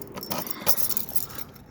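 A large bunch of keys jangles and clinks repeatedly in close, bright metallic bursts, handled while checking the hookups of a 2015 Coachmen Prism 2150LE camper.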